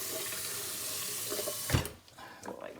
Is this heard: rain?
no